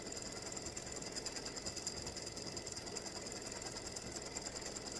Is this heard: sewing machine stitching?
yes